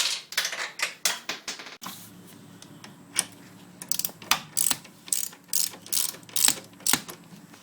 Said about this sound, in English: Now we're just going to torque it up.